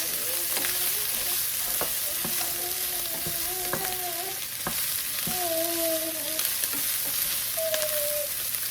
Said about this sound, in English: Let's stir the sausage. See, now it's starting to get nice and brown